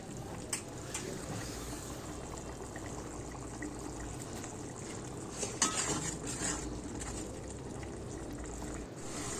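Spice masala with shol fish being stirred and fried in a pan, a steady broadband sizzle with faint scraping throughout and a few brief clinks, fairly close.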